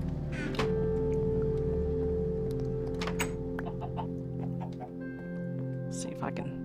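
Chickens in the Minecraft Sky Factory 2 video game give soft, intermittent clucks over a steady droning game tone, with no speech.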